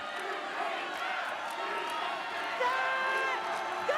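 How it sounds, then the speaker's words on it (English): Crowd noise at a Lingerie Football League game in Chicago, a steady broad roar of many voices cheering through the stands, with a few brief whoops rising near the end. "Here comes that Chicago crowd."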